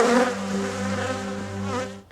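Honeybees hum in a close, steady buzzing drone that swells and fades slightly before dropping away at the end.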